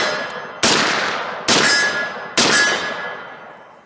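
Three loud, sharp Ruger 44 Remington Magnum carbine shots fired outdoors, evenly spaced about a second apart, each a crisp crack trailing off into a long ringing decay.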